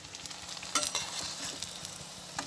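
Boiled potatoes for Cajun-style aloo chaat crackle and sizzle as they fry in hot oil, with steady bubbling and a few sharper pops and stirring scrapes close by.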